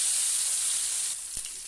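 Chara pona fish coated in salt and turmeric frying in oil in a kadai, a steady bright sizzle that eases slightly near the end, with one brief low thump.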